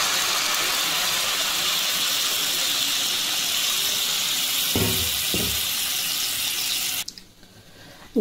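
Water poured into lentils frying in a wok over a medium gas flame, producing a loud, steady broadband hiss and sizzle for about seven seconds before cutting off abruptly into near quiet.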